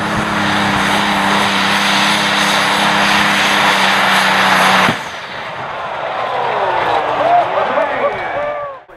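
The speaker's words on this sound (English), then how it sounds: "a competition where souped-up tractors pull a heavy sled along a 330-foot track" Souped-up tractor engine roaring at full power at a tractor pull as a heavy sled is dragged down a 330-foot track, a loud sustained drone with crowd noise that cuts off abruptly midway, followed by quieter mixed chatter and whistling.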